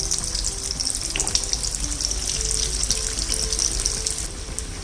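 Bread rolls deep-fry in hot oil over a high flame, making a steady dense sizzle and bubbling hiss that runs close and continuous throughout.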